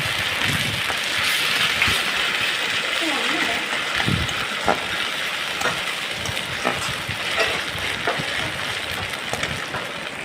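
Ginger and garlic fry with onions in hot oil. A steady, close sizzle hisses throughout, with occasional small pops and stirring, while a voice talks briefly under it.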